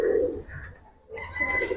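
A pigeon close by gives soft, throaty coos at a breeder's sale. Two short bursts are separated by a brief lull.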